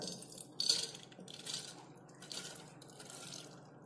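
Quiet, wet pattering splashes in a few soft bursts as soaked moong dal is tipped into a metal pressure cooker.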